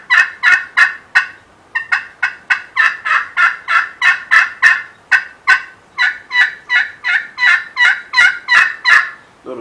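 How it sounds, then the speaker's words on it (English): Wild turkeys gobble loudly and close in Nebraska, again and again, in rapid overlapping bursts for the whole stretch with hardly a pause. "those gobblers here, they just went berserk"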